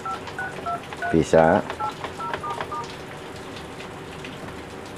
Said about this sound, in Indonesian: Kita bisa tekan S pun. Baru tekan tombol-tombol